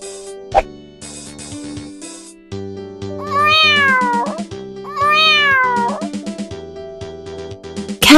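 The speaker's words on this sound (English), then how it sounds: "Cat." A cat meows twice in long, rising-and-falling calls, close and clear, set among plucky cartoon-style music notes and a soft plop near the start.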